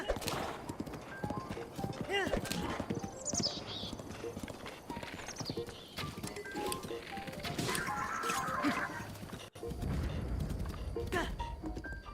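Horse hooves clip-clopping in the video game The Legend of Zelda: Breath of the Wild, a quick rhythmic trot running throughout with an occasional whinny, heard under someone talking.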